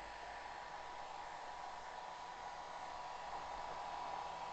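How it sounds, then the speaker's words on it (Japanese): A hair dryer runs steadily, a constant breathy whoosh with no pauses, heard alone at an even, moderate level. "試しにドライヤーを使ってみますね"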